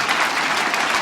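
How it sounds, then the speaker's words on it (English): Brief burst of audience clapping at a stand-up comedy show, dense and even for about a second. "Clap if you have children."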